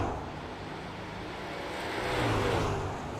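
Race trucks at Bristol Motor Speedway in the iRacing game produce a continuous engine roar that swells as a pack passes, a steady broadband rush heard alone without talk.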